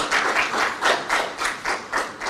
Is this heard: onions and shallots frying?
no